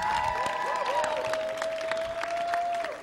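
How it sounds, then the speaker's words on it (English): An audience applauds DJs at a slam poetry performance on a stage, with a crowd clapping steadily for about three seconds while a sustained electronic tone rings over it. "can we get another round of applause for the DJs?"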